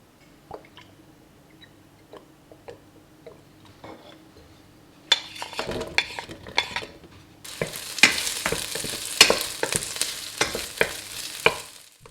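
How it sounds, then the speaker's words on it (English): Chopped shallots, spring onion and ginger hitting a hot pan for Taiwanese beef noodle soup: faint utensil taps at first, then a sudden sizzle that swells into loud, steady frying, with scraping stirs and clinks close by. "Fry some chopped shallots, spring onion and ginger until the onions become translucent."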